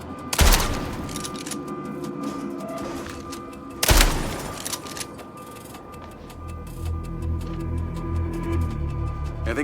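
Gunfire in the video game MindsEye: two sharp, loud blasts several seconds apart, each with a booming tail, followed by a low rumbling game ambience and faint mechanical ticking, with no talking.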